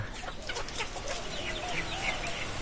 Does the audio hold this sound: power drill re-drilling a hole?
no